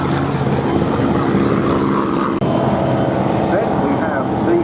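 A Cavalier F-51 Mustang propeller aircraft named Big Rebel flies at an airshow, its engine a loud, continuous drone with a steady rumbling roar throughout.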